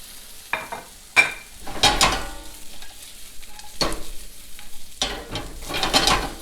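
Chopped onion sizzles in heated extra virgin olive oil in a pan, a steady frying hiss broken by several sharp scraping stirs and louder bursts as it is moved around, with no voices.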